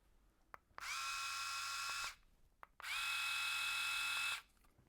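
A best-selling electric bald head shaver switched on twice, its motor whirring at a steady high-pitched buzz for over a second each time with a click at start and stop, close and loud against quiet room tone.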